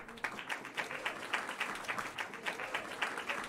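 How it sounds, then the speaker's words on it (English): Applause from a show audience rises in a quick burst and continues as a dense, steady patter of clapping at moderate distance, with no talk over it. "We'll applaud."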